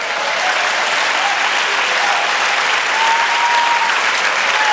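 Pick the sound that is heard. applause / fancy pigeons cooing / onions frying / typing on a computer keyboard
applause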